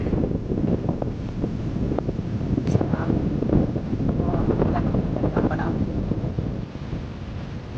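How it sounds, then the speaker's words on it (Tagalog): Heavy wind blasts across the mic, a constant deep rushing roar with small gusty swells, loud and close throughout, strong enough to push a bike sideways. "Grabe yung lakas ng hangin mga bossing."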